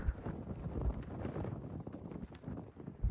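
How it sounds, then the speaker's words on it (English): Strong wind buffeting the microphone on a mountain trail near Hump Mountain on the Appalachian Trail, a continuous rough rumbling gust with uneven thumps, fairly quiet overall. "The wind has been whipping."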